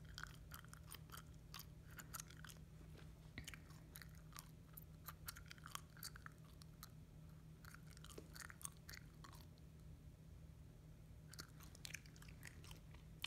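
Gum chewing close to the microphone during a gel nail session, soft wet crunchy mouth clicks in irregular bursts over a steady low hum, pausing briefly near the tenth second.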